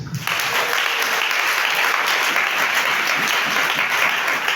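A church congregation applauds Jesus during a French-language sermon, a steady, dense wash of many hands clapping that starts abruptly and continues evenly throughout.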